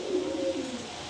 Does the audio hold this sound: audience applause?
no